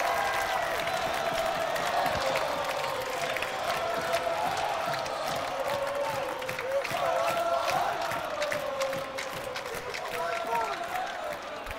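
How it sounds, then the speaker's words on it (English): Home crowd at a college basketball game between Yeshiva and Farmingdale State cheers and roars during a timeout, a steady, loud wash of voices and some clapping filling the gym throughout. "Crowd getting back into it."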